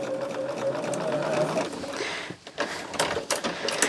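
A sewing machine stitches quilt block pieces with a steady, close mechanical whir, then stops, followed by a few short clicks and handling noises.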